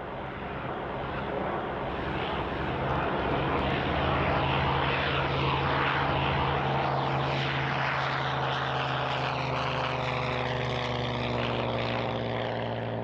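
A Messerschmitt Bf 109 fighter flies overhead, its piston engine and propeller giving a loud, sustained roar that swells and shifts in pitch as it passes, with no voices.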